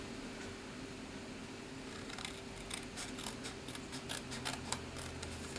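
Scissors snip through card with a quick series of short, crisp cuts in the second half, faint against a steady background hum.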